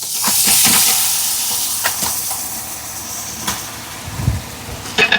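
Marinated chicken for biryani hitting a hot pan, with a loud bright sizzle that bursts at first and then settles into a steady hiss, broken by a few clanks and stirring knocks close by.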